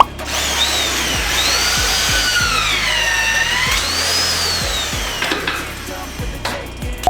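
A power tool fastens bolts on H-beam steel construction at a building site, a loud, close, sustained whine that rises and falls in pitch with repeated clicks and knocks.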